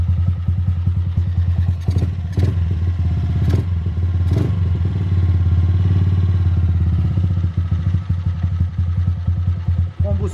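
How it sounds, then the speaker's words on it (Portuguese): A Honda Titan KS 125 motorcycle idles close by with a steady low, throbbing engine note, broken by a few sharp clattering knocks early on. "Vamos funcionar a motinha, vamos ver se a motinha vai pegar"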